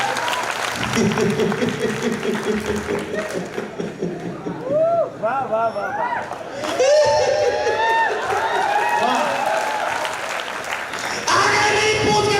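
Loud, sustained audience applause at a Hindi comedy poetry gathering, steady clapping throughout with a performer talking and exclaiming over it, swelling louder near the middle and end.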